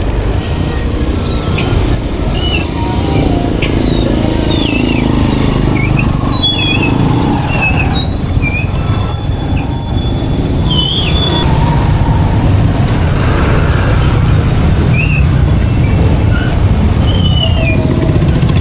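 A motorized tricycle driving through busy street traffic, its engine droning steadily amid passing vehicles, with horns and whistle-like chirps scattered throughout.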